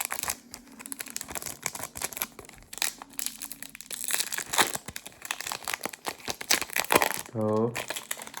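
A plastic trading card pack from Topps Chrome German league football cards crinkles and rustles repeatedly at close range, with sharp crackles and a brief tearing burst near the end, under someone talking.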